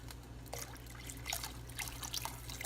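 Water running and dripping into a soup pot while making pasta e fagioli, a steady faint trickle with scattered drips and splashes, alone without talk.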